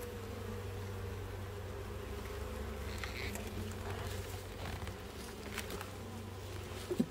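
Honey bees buzzing steadily around an opened hive during a beehive inspection, a dense continuous drone with a few louder passes close by.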